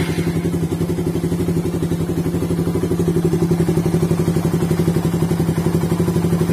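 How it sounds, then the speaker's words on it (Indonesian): A motorcycle engine idles after a service, running with a smooth, steady rhythmic putter at an even RPM, close and continuous with no talking. "Irama mesin halus."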